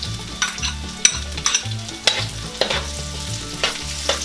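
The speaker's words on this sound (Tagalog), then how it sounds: "Ngayon po ay pwede na nating ilagay ang ating sibuyas." Onion goes into hot garlic oil for adobong pork tripe and gets stirred: a loud, steady sizzle broken by spatula scrapes and clacks against the pan, with no voices, while low music plays underneath.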